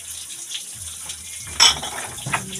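Water runs from a tap in short bursts, a quiet trickle broken by a sharper splashing gush midway and another brief spurt near the end.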